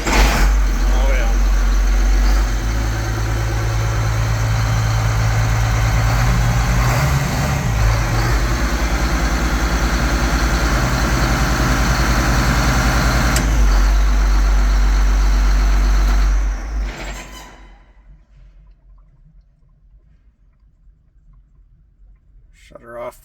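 A Case 7250 Magnum tractor diesel engine idles loud and close right after its first start-up, a deep steady rumble running about sixteen seconds before it shuts off and the sound falls to near silence.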